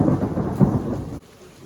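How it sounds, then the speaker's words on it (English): Thunder during a thunderstorm, a deep low rumble that rolls loudly for about a second, then cuts to quieter background with rain, no voices. "all of a sudden a thunderstorm comes"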